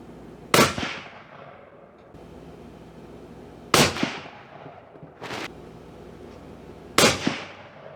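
Three loud rifle shots from a 300 Win Mag are fired one after another a few seconds apart. Each gives a sharp crack with a short echoing tail, and there is a fainter thump between the second and third.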